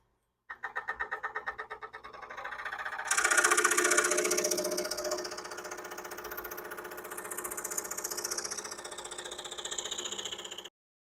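A scroll saw cuts through a large wooden piece, a rapid, buzzing reciprocating chatter that starts suddenly, grows harsher as the blade bites in, then runs steadily at moderate volume before stopping.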